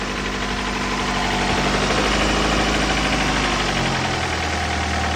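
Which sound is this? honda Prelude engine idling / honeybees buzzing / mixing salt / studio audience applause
honda Prelude engine idling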